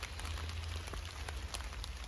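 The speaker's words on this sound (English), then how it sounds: "We're just sort of in the woods, sheltering from the rain." Rain falling steadily in woodland, a soft continuous hiss with faint scattered drops, moderately quiet and unbroken throughout.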